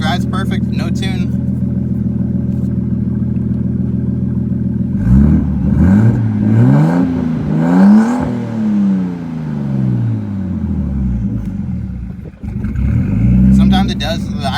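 A turbocharged Nissan Skyline GTS-T idles loudly up close, then takes several sharp revs. The engine climbs and falls in repeated blips before returning to idle, with one more short rev at the end.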